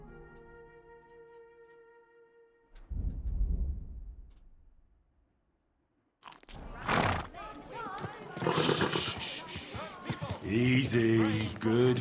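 A horse in Kingdom Come: Deliverance II snorts and whinnies loudly after a low rumble, with a voice talking afterward against a game-like background.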